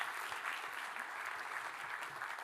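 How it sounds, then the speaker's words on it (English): Steady audience applause at a radio industry conference session fills the space continuously, a dense even wash of many hands clapping with no gaps, moderately distant. "Round of applause."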